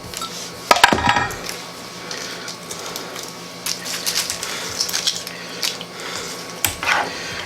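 Utensil scraping and clinking against a dish while fried onions are stirred into a chicken green bean casserole, irregular close clinks and scrapes with sharper knocks near the start and end.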